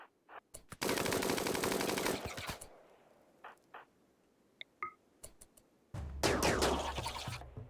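Bursts of automatic gunfire in RimWorld come as two dense rattling volleys separated by a quieter stretch of scattered single shots and clicks.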